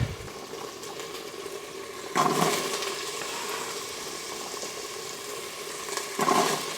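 Vegetables hit hot olive oil in an Instant Pot on sauté for beef and barley soup, setting off a sudden louder sizzle that settles into a steady fry, with a second surge near the end.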